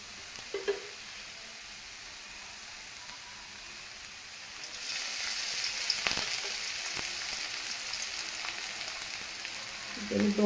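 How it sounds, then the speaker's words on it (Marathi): Onions sizzle in hot oil in a pan while bhurji is being cooked. The frying starts soft and steady, then swells into a louder, dense crackling sizzle about halfway through and carries on close up with no talk. "आता पुन्हा 1 ते 2 मिनिटं हा तेलामध्ये छान भाजून घेऊ"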